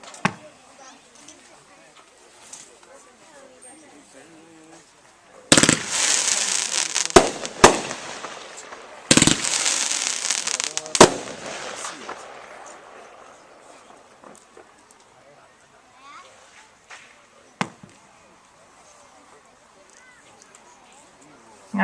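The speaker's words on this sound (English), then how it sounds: "This one's called Triple Threat, 25 shot by Winda." A Winda Triple Threat 25-shot firework cake goes off with two loud, dense volleys of rapid crackling bursts, followed by a few scattered pops, with faint voices in the background.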